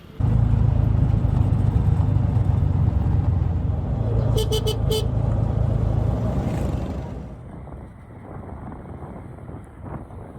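Steady engine and road noise from an auto rickshaw moving through traffic with wind buffeting, a brief burst of horn toots midway, then the rumble quiets.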